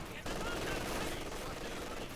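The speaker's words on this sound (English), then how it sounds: "Machine gun joining as well." Machine gun fire from Company of Heroes 2 rattles as a continuous dense burst of rapid shots. It starts abruptly after a brief moment and stays fairly faint throughout.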